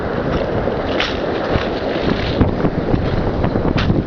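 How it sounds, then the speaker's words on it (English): Strong wind roars and buffets the microphone on a beach during a bike ride at Lawrencetown Beach, a loud, steady blustery rush with gusts and no speech. "it's really windy and the wind's blowing towards me"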